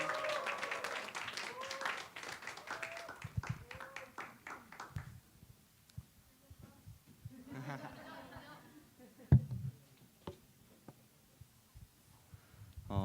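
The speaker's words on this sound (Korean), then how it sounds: "열심히 우리가 박수치면서 격려하는 시간 갖도록 하겠습니다" Audience applause in a church Thanksgiving service welcoming a nervous high school student speaker, dense clapping at moderate level that thins out and fades after several seconds, with a brief voice at the end.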